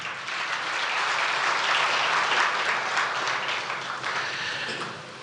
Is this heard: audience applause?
yes